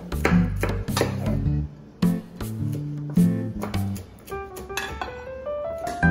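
Long beans chopped on a board with a knife, a run of fast, close, crisp thuds in uneven bursts, each hit ringing briefly.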